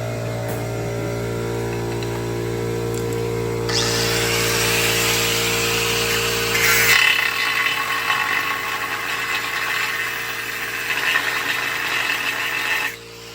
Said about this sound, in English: So I'm gonna just give it a little bit more grinding all the way to like right here